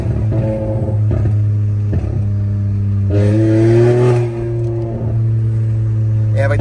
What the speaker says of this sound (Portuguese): vai ter que dar uma esquentada aqui no escape que vai começar a sair as pipocadas